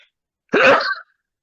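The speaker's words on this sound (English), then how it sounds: "I'm really sorry for sneezing." A single sharp sneeze from a man wearing headphones, short and close to the microphone, standing alone between stretches of silence.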